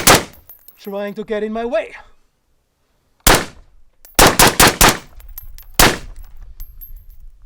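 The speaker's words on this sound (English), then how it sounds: "to get some more shots off without recoil," A Steyr AUG A3 rifle fires loud, close shots, a single report, then a rapid string of four, then another single, with a brief spoken phrase near the start and a quiet gap.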